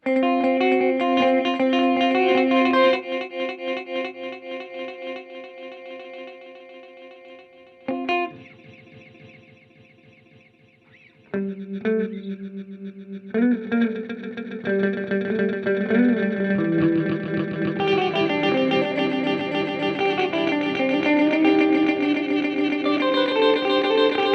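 Guitar run through a Cooper FX Arcades pedal with the Grains card, its granular effect shifting as grain density is adjusted: sustained chorused, glitchy tones that thin out, drop nearly silent, then swell back into dense shimmering layers.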